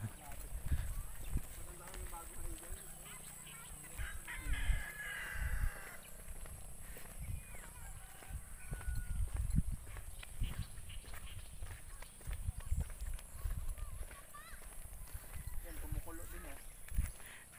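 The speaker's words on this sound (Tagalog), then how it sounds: "Ang daming mga kabayo ni Ayon, no?" Horses on a farm clip-clop on and off across a long stretch, fairly faint and distant, with crows cawing at times and people talking.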